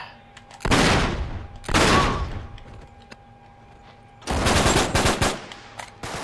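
Enemy automatic gunfire in the video game Uncharted 3: Drake's Deception, three loud sustained rattling bursts separated by brief pauses, no talk over them.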